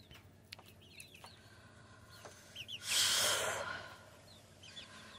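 Young Polish, Cochin and Silkie chicks cheeping and clucking in short high chirps, with a breathy rush of wind or noise midway, faint and close, no talking.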